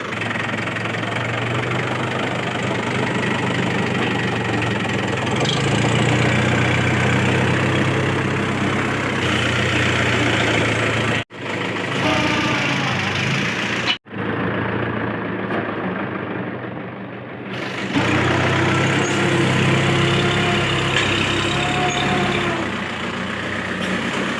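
A tractor engine idles steadily with a heavy knocking rumble, loud and close throughout, cutting out briefly twice before resuming, while preparing to make straw.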